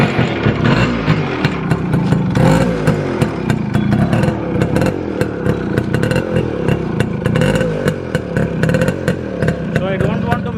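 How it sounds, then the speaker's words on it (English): Close, loud Suzuki Samurai engine running through an aftermarket Shogun exhaust, a rattly, buzzing drone with rapid pulses that holds steady throughout. "Now we're gonna listen the Suzuki Samurai engine with a Shogun exhaust."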